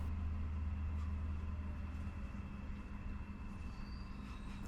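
Eurostar high-speed train running out of Paris through the northern suburbs, a steady low rumble and rolling rail noise heard from inside, continuous and fairly loud with a faint high whine near the end.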